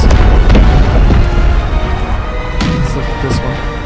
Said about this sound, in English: Oh, that one's getting ready to explode too.